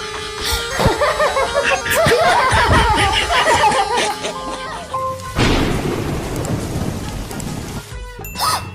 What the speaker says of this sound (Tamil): வெளியே பயங்கரமா மழை பெய்யுது